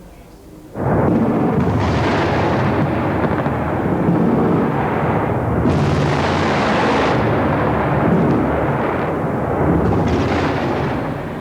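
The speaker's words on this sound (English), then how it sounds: "Cameras were rolling when the bombs came down." Bunker-busting bombs dropped by stealth bombers explode in an airstrike, a sudden huge roar that swells into a sustained, loud rumbling blast wash lasting many seconds, with further surges as more detonations follow.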